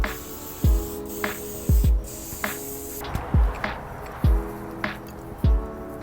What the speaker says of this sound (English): we're gonna add some sheen spray just to hydrate the hair really quick